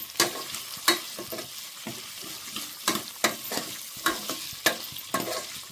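Fried ingredients are stirred in a pan, with a steady soft sizzle under regular sharp scrapes of the spoon against the metal, close and clear, repeating every half second or so with no talk.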